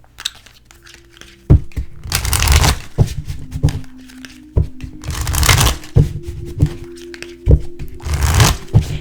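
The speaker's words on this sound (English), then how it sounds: "a lot of you guys say things about my shuffling" Tarot cards are handled and shuffled close up in bursts, papery riffles and slaps alternating with quieter handling, soft taps and thumps between them, with no talking.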